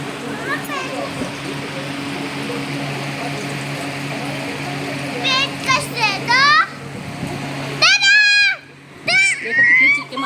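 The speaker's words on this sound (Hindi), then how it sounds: "देखो कितनी चीखें मार रही" A young child shrieks and squeals in playful bursts over a steady background hum from an air cooler, with a few short high-pitched cries near the end.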